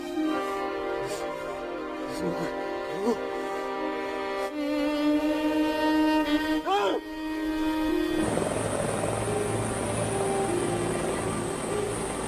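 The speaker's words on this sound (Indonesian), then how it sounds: "Ketika helikopter lepas landas" A military helicopter lifting off, its rotor and turbine drone steady and loud throughout, with harmonic whine shifting as it powers up, along with mixed background effects.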